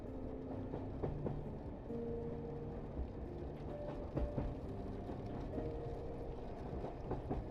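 A passenger train crossing Canada through autumn mountain valleys rolls along the rails as a faint, steady rumble. Soft clicks and brief whining tones surface now and then.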